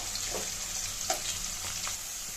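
Onions and garlic fry in oil for a Tamil fish curry, making a continuous close sizzle with a few brief stirring clicks.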